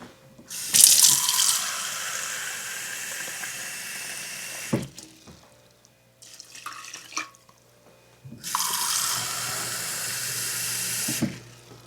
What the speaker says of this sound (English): I will need 1 3/4 cup of water.